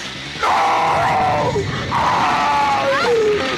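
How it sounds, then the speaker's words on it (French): Freddy Krueger from the horror film A Nightmare on Elm Street screams in the original-language version, two loud drawn-out vocal cries with falling pitch, each lasting over a second, close and dominant over a dense film soundtrack. "C'est moi ou les cris de Freddy ont pas été traduits, là?"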